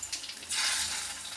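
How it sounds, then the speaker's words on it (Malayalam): Mustard seeds crackle and sizzle in hot oil for a fish curry in a home kitchen, a soft hiss swelling after half a second and ending in a sharp, loud burst of spatter as the seeds pop, with no talking. "ഒരു ശകലം കടുക് വറുത്ത ഞാനൊന്ന് ഇട്ട് കൊടുക്കട്ടെ"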